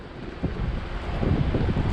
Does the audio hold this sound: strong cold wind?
yes